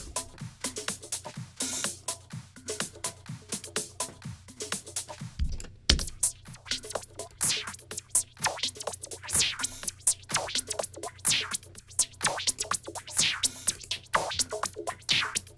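A drum loop through a Soundtoys Filter Freak filter plugin plays steadily, crisp repeating hits with a dull, swept tone and a low sustained hum underneath, no voices.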